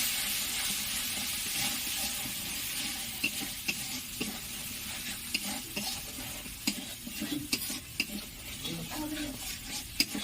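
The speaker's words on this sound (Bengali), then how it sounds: "এভাবে মশলাটাকে কষিয়ে নিতে হবে।" Spices with turmeric and Kashmiri chilli powder are stir-fried in a pan, a dense steady sizzle with scraping and occasional clinks of a utensil being stirred.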